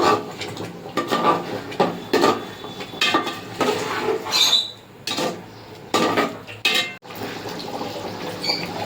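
A spoon scrapes and clanks against a pot while ghee is stirred into chicken biryani, giving repeated rhythmic metallic scrapes and soft wet mixing sounds, close and continuous.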